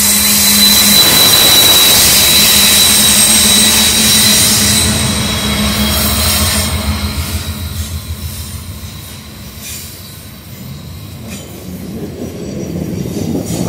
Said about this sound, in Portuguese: Trem com a Suzano líder.